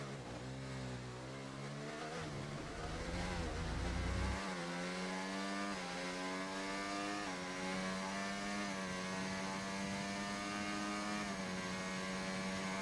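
Onboard a race car on a Q2 qualifying hot lap at Monza: a loud engine note holds steady, shifts gear around four seconds with a deep low rumble, then climbs steadily in pitch as it accelerates, with no talking.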